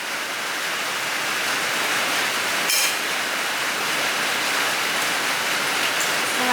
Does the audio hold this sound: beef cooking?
no